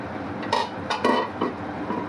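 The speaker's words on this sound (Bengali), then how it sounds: "বন্ধুরা, ঢাকনা তুলে নিচ্ছি।" A metal lid lifts off a pot of simmering spiced masala for a home-style tilapia fish curry with potato and eggplant, giving a few short clinks and scrapes against a faint background hiss.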